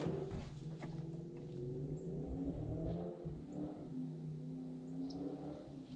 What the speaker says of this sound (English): I think that's a local Mustang.